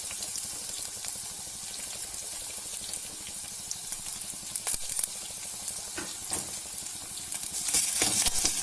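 Green chilli, carrot and other vegetables fry for a hotel-style puri curry, giving a steady, dense sizzle with crackling spatters throughout. The frying grows slightly louder near the end, with no talking.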